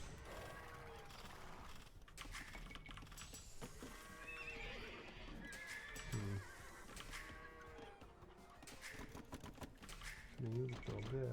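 Horses neigh and whinny in Age of Empires 2, with hoof clip-clops and mechanical game effects scattered through a busy mix of in-game sounds, loud and close throughout.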